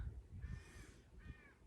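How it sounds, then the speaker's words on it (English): A bird gives two harsh cawing calls, crow-like, with a clear pause between them, fairly close and moderately loud over a low rumbling background. "Quiet, bird."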